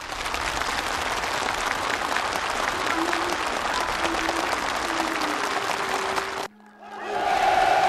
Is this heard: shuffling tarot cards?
no